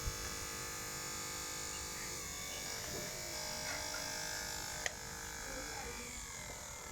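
A repaired 12V DC fan motor runs steadily with a soft, even electric whir and faint hum. One small click occurs partway through.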